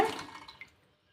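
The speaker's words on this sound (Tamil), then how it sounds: "தண்ணி ஊற்றி நல்லா கழுவிக்கோங்க" Poured water splashes over peeled tapioca root being washed, a short close splash and dribble that quickly fades into a few faint drips.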